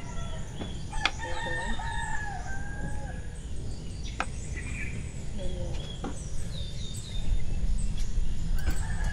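A rooster crows nearby amid a busy outdoor farm background in Mendez, Cavite, with other birds chirping and faint clucking throughout.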